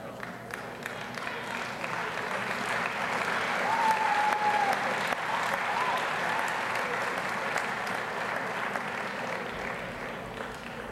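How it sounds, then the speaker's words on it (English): An audience at a high school academic awards ceremony gives long, even applause from many hands in a large hall, steady and moderately distant, with a brief whistle or cheer partway through. "thank you for the applause"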